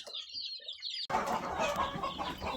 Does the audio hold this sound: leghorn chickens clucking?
yes